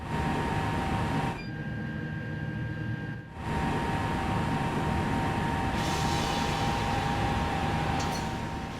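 A high-speed train on a French LGV line in the video game Train Sim World 2 hums along steadily with a continuous electric whine and rumbling noise, briefly dipping twice before resuming at the same level.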